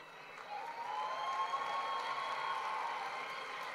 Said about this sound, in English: please help us applaud their achievement as their name is called and they walk across the stage